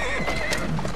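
A horse in the video game Assassin's Creed Syndicate gallops and whinnies, a brief neigh rising over a constant dense game soundtrack.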